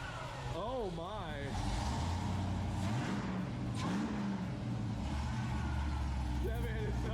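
A supercharged car engine running loud and close, with repeated sharp revs sweeping up and down over a deep rumble, accompanied by people talking.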